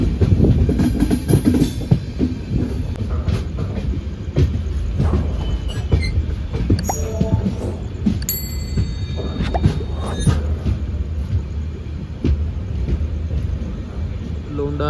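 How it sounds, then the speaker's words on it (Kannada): The Belagavi–Bengaluru superfast express rolls through Londa Junction without stopping, heard from on board as a loud steady rumble of wheels on rail with clicks and faint squeals, while a voice speaks over it. "ಲೋಂಡಾ ಜಂಕ್ಷನನ್ನು ನಮ್ಮ ಟ್ರೈನ್ ಈಗ ಸ್ಕಿಪ್ ಮಾಡ್ತೈತಿ"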